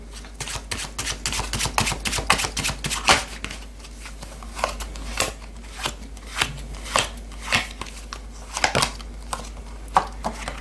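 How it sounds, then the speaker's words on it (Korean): Oracle tarot cards being shuffled and drawn, giving a series of close crisp riffling flicks and slaps in irregular bursts, with quieter gaps between them. "오라클 카드도 보도록 하겠습니다."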